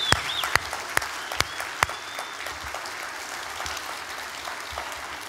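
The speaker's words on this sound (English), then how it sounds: "will you give them all a big round of applause for being with us?" Applause from a church service congregation, a burst of sharp claps at the start settling into steady clapping from a crowd filling the room, with no talking over it.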